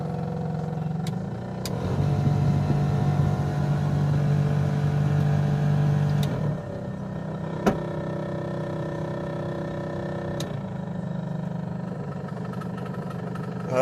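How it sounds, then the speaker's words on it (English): A worn bearing in the blower motor of a 1993 Chevrolet S10, running as a steady droning hum with a grinding tone that surges louder for a few seconds before settling back, with a few sharp clicks scattered through. "Oh yeah, nice bearing noise."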